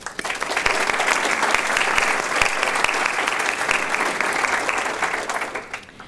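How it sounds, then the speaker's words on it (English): A business-breakfast audience of physicians gives the editorial team a sustained round of applause, a dense even roar of many hands that holds steady for several seconds before tapering at the end. "Please join me in a round of applause for this editorial team"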